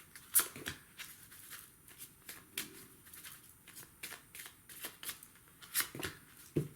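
A deck of oracle cards is shuffled close up in a quick run of soft riffling flicks and taps, with no talk over it.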